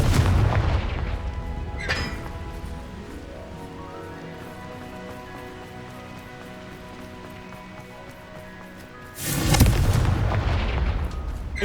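A Confringo spell explosion in Hogwarts Legacy booms loudly, then a ringing tonal tail decays, and a second heavy blast follows near the end.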